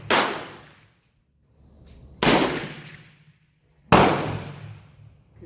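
Three loud, sharp rifle shots from a Berthier model 1916 firing powder-coated cast bullets, spaced roughly two seconds apart outdoors, each ringing out and decaying slowly with no talk.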